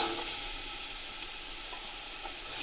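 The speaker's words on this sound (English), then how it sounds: "I like to add the celery and the onions" Celery and onions sizzle in a roux, a steady bright hiss of frying with faint crackles, continuous and close, without speech.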